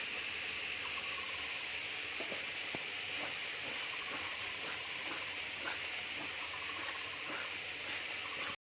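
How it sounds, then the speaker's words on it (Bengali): Spices fry in oil in a pan for a tomato and potato katla fish curry, giving a steady, even hiss that stays close and constant before cutting off abruptly at the end. "মশলাগুলো ভালো করে ভাজা হয়ে গেছে মশলা থেকে তেল ছেড়ে দিয়েছে"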